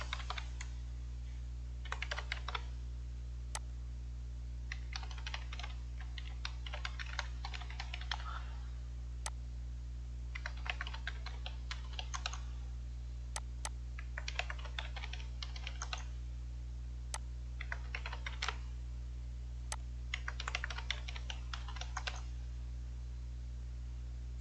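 Steady keyboard typing in bursts of rapid key clicks while entering admin details during TP-Link Omada network setup, with short pauses between runs over a constant low electrical hum.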